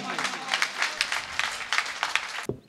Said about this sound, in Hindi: पुरजोर तालियों के साथ उनका सम्मान कीजिए।